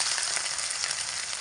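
Onion, ginger and garlic paste fries in hot oil with a steady, dense sizzle that holds even throughout, close and loud, with no voices.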